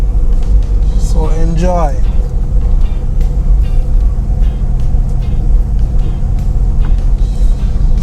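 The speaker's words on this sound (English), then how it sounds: "So we're having some bumpy ride right now" A car rides over a bumpy rural road in St. Elizabeth, Jamaica, its engine and road rumble a steady, loud low drone throughout, with a voice speaking briefly near the start.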